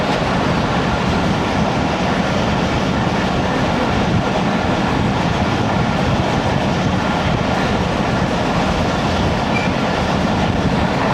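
Allama Iqbal Express passenger train running on rails in Pakistan, a steady loud rumble with continuous wheel clatter, heard close, as from on board, with no voices.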